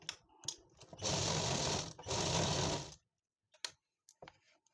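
Sewing machine stitching an Afghani plazzo, with two steady rapid bursts of running stitches about a second each, separated by a brief pause, followed by quiet handling clicks.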